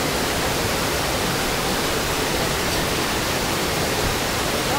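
Amboli waterfall roaring as a steady, dense rush of falling water, loud and unbroken throughout with no other sounds standing out.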